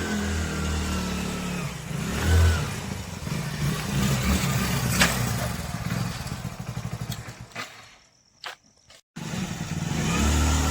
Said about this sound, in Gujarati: આગળ સુમિત મોટરસાયકલ આવ્યું